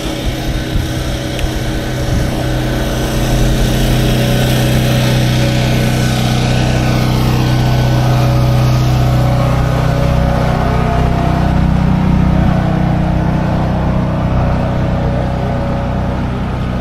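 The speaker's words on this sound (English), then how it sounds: "I guess I could have picked a spot where there weren't noisy food trucks." Engines hum steadily beside a busy Toronto park, a loud continuous low drone with a rising and falling tone, like noisy food trucks idling nearby, with no voices over it.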